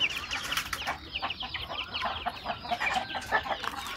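Chickens in a coop cluck in quick, broken bursts, several birds close by and overlapping, with short sharp calls rising above a soft background hum.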